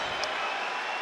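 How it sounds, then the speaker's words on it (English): Roaring arena crowd at a UFC event, a dense, continuous wall of cheering and shouting that stays loud and steady throughout, with no single voice standing out. "I have never heard a crowd like this before."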